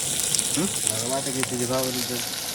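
Onions frying in a pan for a chicken curry, a steady close sizzle running throughout while a person talks over it.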